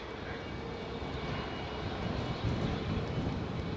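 An American Airlines jet departs Edinburgh airport for Philadelphia, a steady distant engine roar with a slight swell near the end, alone without talk.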